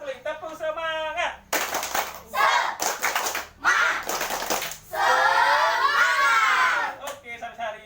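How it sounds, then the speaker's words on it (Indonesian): Children in a classroom clap a rhythmic spirit clap together, with bursts of loud clapping and shouting between stretches of a teacher's talk. "Satu kali, tepuk semangat."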